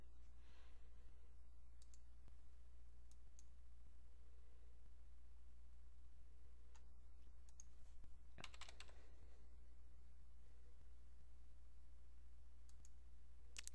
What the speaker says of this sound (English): I'm going to blur this out while I type in all my information here